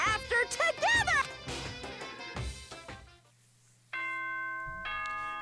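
In a video game, a bright multi-tone announcement chime rings out clearly after a stretch of music and voices, its sustained notes holding to the end.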